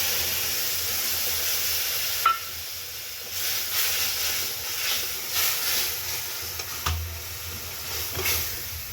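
Mustard paste and poppy seed paste fry in hot oil with turmeric for shorshe ilish, giving a steady close sizzle and hiss with a few brief stirring clanks and no talking.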